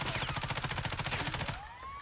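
Automatic rifle fire in the video game Call of Duty Warzone, a fast, even stream of shots from one weapon that stops abruptly, leaving a fading ring.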